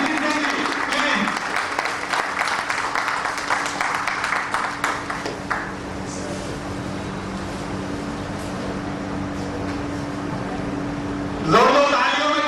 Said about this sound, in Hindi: जोरदार तालियों में कमी न रहनी पड़े।